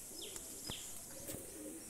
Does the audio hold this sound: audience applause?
no